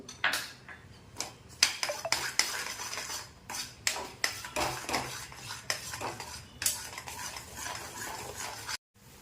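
A spoon scrapes and clinks against a pan while cardamom powder is worked into a mawa modak mixture, giving irregular close taps and scrapes in quick bursts with short pauses between them.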